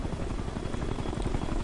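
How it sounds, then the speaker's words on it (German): Rapid, steady thumping of an enemy helicopter's rotor blades in the video game Ghost Recon Future Soldier, a continuous chopping drone at moderate volume with no talking. "feindlicher Hubschrauber."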